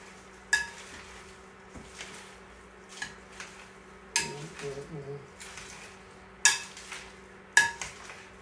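Rinsed romaine lettuce tossed with dressing in a large bowl makes irregular clattering knocks of utensils against the bowl, with rustling between, and a voice briefly speaks partway through.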